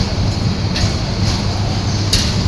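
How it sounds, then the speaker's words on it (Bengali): The intercity Subarna Express enters platform 3 at Kamalapur railway station, a loud steady low rumble of the train rolling in with a few faint metallic squeals and clanks on top. "আন্তনগর সুবর্ণ এক্সপ্রেস কমলাপুর রেল স্টেশনের 3 নম্বর প্ল্যাটফর্মে প্রবেশ"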